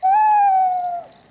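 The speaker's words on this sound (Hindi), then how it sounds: "वो उल्लू है, देखो वहाँ पर।" A cartoon owl in a Peppa Pig episode gives one long, loud hoot outdoors among nature sounds. The hoot is sustained, clear and alone, with no talking over it.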